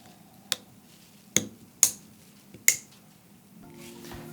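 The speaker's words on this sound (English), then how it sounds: "Press the cover down until you hear 2 snaps, one for each tab." Several sharp plastic clicks as a motor encoder cover snaps onto its two tabs, two of them louder and close together, snapping crisply in a quiet room with a faint hum underneath.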